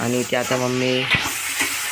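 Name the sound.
onion frying in a kadhai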